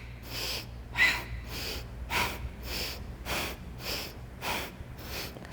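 Rhythmic exhales in boat pose during a core-focused yoga flow: about eight forceful, breathy bursts spaced roughly evenly, close and fairly loud, with no talking over them.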